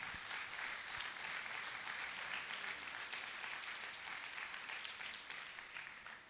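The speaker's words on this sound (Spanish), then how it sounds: "Vamos a dar una ofrenda de palmas." A church congregation gives an offering of clapping, a steady, even wash of many hands heard at a distance, holding for several seconds and easing off slightly at the end.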